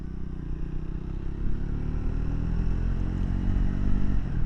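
A Triumph Scrambler 400 X motorcycle on knobby tires rides slowly in second gear, its engine a steady, low, close rumble that swells slightly partway through, with no talking.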